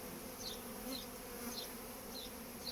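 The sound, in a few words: honeybee drones buzzing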